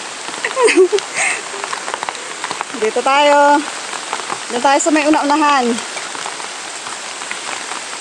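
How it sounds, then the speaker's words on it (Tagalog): Steady rain patters outdoors on a rainy walk near a river, a constant close wash of drops running throughout while people talk over it. "Ulan na talaga."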